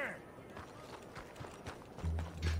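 Horse hooves clip-clop in Red Dead Redemption II, a steady run of soft hoofbeats mixed with game ambience, and a low droning tone rising near the end.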